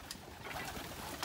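Pigeons cooing in a coop beside a lone hilltop farmhouse, soft repeated coos over a noisy outdoor background with no talk.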